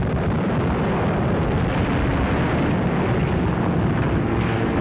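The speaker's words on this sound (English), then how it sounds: "the Nazis bombed the city anyway" Bombs explode during the German bombing of Rotterdam in a dense, continuous roar of blasts and rumble with no distinct gaps, loud and heavy throughout.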